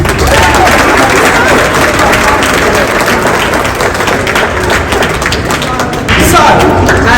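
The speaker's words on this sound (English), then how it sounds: "Anybody want to give a clap for their parents?" An audience at an awards ceremony applauding for their parents, a loud, dense wash of clapping from a crowd that holds steady throughout, heard close up.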